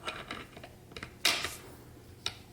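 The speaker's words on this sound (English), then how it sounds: "Just grab the can, spin the entire thing, stops clicking," A Dead Air Sandman K suppressor gives a series of small, sharp mechanical clicks as it is spun to be removed, close and fairly quiet, with one louder snap near the middle.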